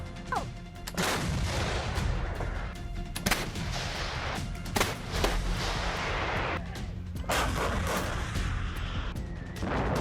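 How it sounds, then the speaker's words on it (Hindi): Heavy artillery booms land at irregular intervals in the Russia-Ukraine war, with distant rumbling and crackling between the blasts. No voices are heard. "तोपों की गूंज"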